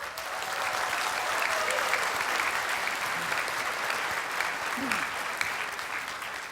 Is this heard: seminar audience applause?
yes